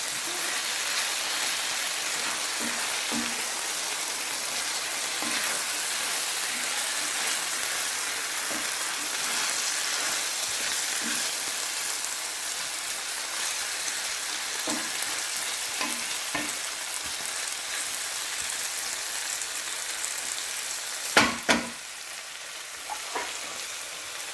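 Green lentils cooking in a pot, a continuous dense crackle of frying and bubbling with small pops scattered throughout, plus a sharp clatter near the end, close and steady.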